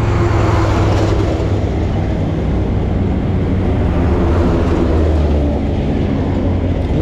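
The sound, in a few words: trucks and road traffic noise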